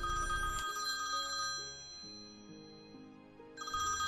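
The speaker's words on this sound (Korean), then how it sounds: "해옥의 부모는 경찰서에 전화를 걸어 시신을 확인해 보겠다고 했습니다" A telephone rings on a call to a police station. Its electronic ringtone repeats a bright, pulsing tone at moderate loudness, fading slightly before sounding again, with no voices.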